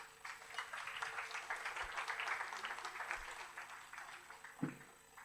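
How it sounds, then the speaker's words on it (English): Moderate applause from a conference audience, a steady patter of many hands clapping at some distance that tapers slightly toward the end. "give him a good round of applause, please"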